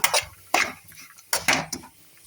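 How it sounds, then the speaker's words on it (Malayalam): A spatula scrapes and clatters against a pan in a few sharp bursts, with quieter scraping in between as cabbage thoran is stirred. "ഇനി നമുക്കിത് നല്ലതുപോലെ ഇളക്കി കൊടുക്കാം."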